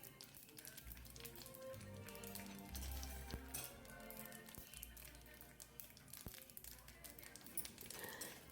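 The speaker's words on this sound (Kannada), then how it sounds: "ಫಸ್ಟು ಬಾಣಲಿಗೆ ಸ್ವಲ್ಪ ಎಣ್ಣೆ ಹಾಕಿ ಚಟ್ನಿಗೆ, ಕೋಸಂಬರಿಗೆ ಎಲ್ಲ ಒಂದು ಒಗ್ಗರಣೆ ಹಾಕ್ಕೊಳ್ಳಿ" Urad dal, mustard seeds, asafoetida and red chilli sizzle in hot oil in a frying pan, a quiet, steady crackling fry with no break in the texture.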